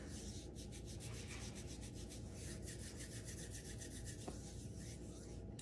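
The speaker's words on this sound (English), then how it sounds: "I want you to first rub your hands." Hands rubbed briskly together, a continuous soft dry friction sound that stays steady and faint throughout.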